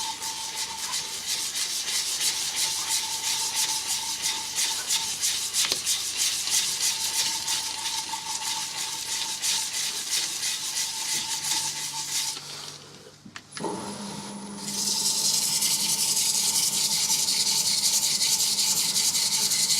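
Steady abrasive rubbing of sandpaper on an elm and walnut wooden bowl, continuous and close, briefly pausing before resuming louder and brighter.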